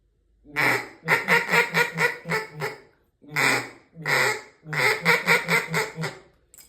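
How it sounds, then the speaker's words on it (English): A handheld duck call blows a series of quacks in bursts, rapid descending runs of five or six notes separated by short pauses, close and loud with no other sound. "you just open it as you're quacking"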